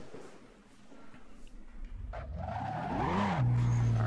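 A car driven in the Assetto Corsa racing game on a GTA V map, its engine rising in pitch as it accelerates and climbing to a loud, steady high drone, with brief tire squeal mixed in.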